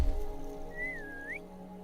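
A single short whistle in a Harry Potter video game, a thin rising and falling tone lasting under a second over a quiet background hum.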